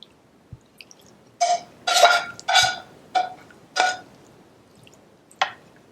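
Sauce and peppers spread over chicken in a baking dish, a series of about six wet squishing, smearing bursts at irregular intervals, close and fairly quiet with no talk.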